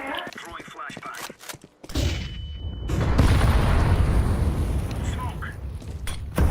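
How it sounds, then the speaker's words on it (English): A flashbang grenade goes off in a video game, a sharp close boom followed by a loud, sustained broadband ringing wash that fills the rest of the moment, with a voice heard around it. "Throwing flashbang."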